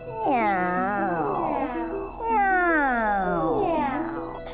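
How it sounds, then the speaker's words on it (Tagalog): A cat meows three times in long, wavering, plaintive calls, each drawn out and close, with short pauses between them. "Meow."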